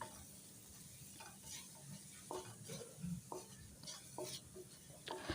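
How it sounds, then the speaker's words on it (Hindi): Onions softening gently in a small amount of oil on a street-food chicken dish, with repeated scraping stirs of a spoon in the pan over a soft, steady low sizzle, close and fairly quiet. "3 अदद के करीब प्याज जो कि हमने फ्राई नहीं करनी, हल्के से सॉफ़्ट करनी है।"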